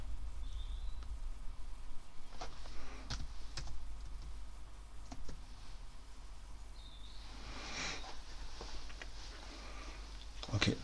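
Computer keyboard typing as a stock ticker is entered, a few sparse clicks and short bursts of keystrokes over a quiet room hum, with faint incidental noises in the background.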